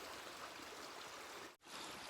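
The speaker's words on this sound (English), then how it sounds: "I'm down by the bank of the river now" A river by a wooded riverbank in Latvia streams past in a steady, soft, broadband rush of flowing water, close and constant, broken only by a split-second dropout.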